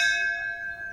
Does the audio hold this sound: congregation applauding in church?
no